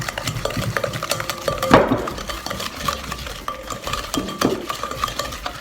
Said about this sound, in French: maintenant Leslie mélange la mixture